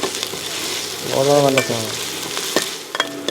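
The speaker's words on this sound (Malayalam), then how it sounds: "ഇപ്പോൾ ദേ ഇഞ്ചി വെളുത്തുള്ളി മൂത്ത് വന്നിട്ടുണ്ട്" Ginger garlic paste sizzles and fries in a pan while being stirred, a close crackling hiss with scraping strokes and no talking.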